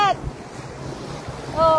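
Sea waves wash onto a white sand beach in Dubai, a steady rushing surf with wind buffeting the microphone, while a voice speaks briefly at the start and end.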